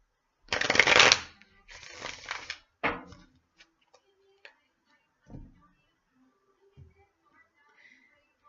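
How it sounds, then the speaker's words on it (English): Tarot cards are shuffled by hand in a burst of crisp riffling and flicking, then a few sharp taps and soft card slides, close up in a quiet room. "One more shuffle."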